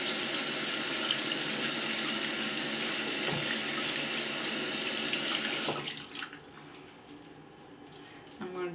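Tap water runs steadily into a sink while makeup brushes are rinsed under it, a close, continuous splashing that cuts off abruptly about two-thirds through, leaving quiet drips and faint handling sounds.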